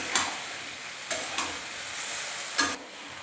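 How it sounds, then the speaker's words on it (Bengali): Vegetables coated in spice mix are stirred in a pan for a Bengali shukto, a steady sizzle broken by a few scraping strokes of the spoon, close and moderately loud, with no talking. "তো মশলাটা দিয়ে ভালো করে নাড়াচাড়া করে নিচ্ছি।"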